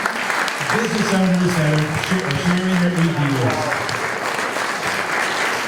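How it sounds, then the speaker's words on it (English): Audience applause for local business owners at a Phoenixville community history evening, a steady wash of clapping that fills the room while someone speaks over it. "let's give a round of applause for all these"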